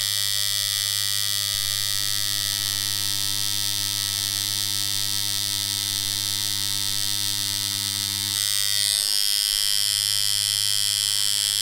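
A JDMFG Anvil MK1 rotary tattoo machine fitted with a 3 round liner runs with a steady, loud electric buzz and hum throughout, its tone shifting briefly near the end, with no one talking.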